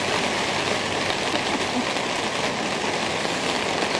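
Rain falls steadily outdoors in a garden, a dense, even hiss of drops with no break, close and fairly loud, no voices.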